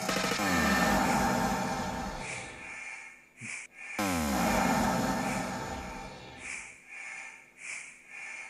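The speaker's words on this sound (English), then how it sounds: "Get that kind of breathing effect." Reverb and phaser processing from a TC System 6000 creates a breathing effect: dense processed sound swells and pulls back in slow waves, drops out abruptly, then surges again and pulses in shorter breaths.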